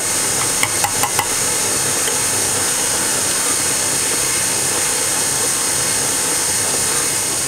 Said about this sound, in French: je mets tout le temps mon robot sur vitesse 2